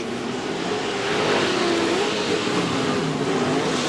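Off-road race trucks in a 2008 CORR race at Chula Vista roar around the track in a loud, steady, close engine drone that swells slightly as they pass.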